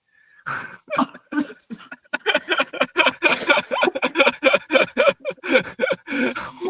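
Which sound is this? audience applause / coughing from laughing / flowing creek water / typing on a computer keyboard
coughing from laughing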